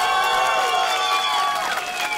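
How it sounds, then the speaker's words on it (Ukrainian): Loud applause and cheering from a crowd at an outdoor karaoke show on a public square, continuous clapping mixed with shouts and whistles, close and sustained. "Ваші оплески дівчатам."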